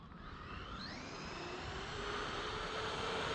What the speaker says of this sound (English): Full throttle, battery's low.